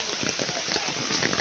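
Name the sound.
heavy rain falling in a village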